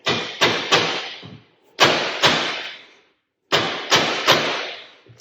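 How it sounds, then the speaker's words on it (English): Heavy dead blow hammer blows land in quick groups of three, each a dull thud with a short ringing decay, separated by brief silent pauses. "So I've got a dead blow hammer here."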